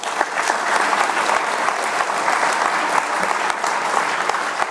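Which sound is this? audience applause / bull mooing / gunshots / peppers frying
audience applause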